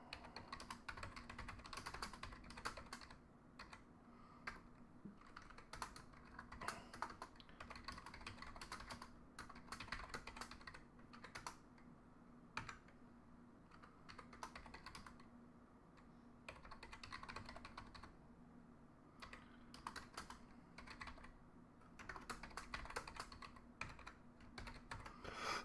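Someone types on an unfamiliar computer keyboard, producing dense, irregular bursts of close, crisp key clicks with short pauses between runs, and no talk.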